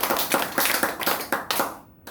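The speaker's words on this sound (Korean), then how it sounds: "감사의 큰 박수를 올리겠습니다" A church congregation claps together during a worship service, a steady run of sharp hand claps in rhythm over about two seconds before fading out.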